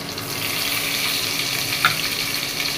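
Chopped onions fry in hot oil for a fish dish, a steady bright sizzle close by with a small clatter near the end and no talking.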